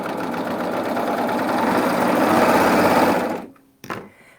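A serger fitted with a shirring foot runs continuously to gather fabric into ruffles, a steady, loud mechanical whir that holds for about three and a half seconds, then stops abruptly, leaving a short clunk.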